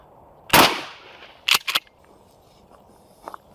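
A shotgun fires Hornady Critical Defense buckshot at 12 yards on an outdoor range, one loud close blast that rings off, followed by a few fainter clicks and clacks.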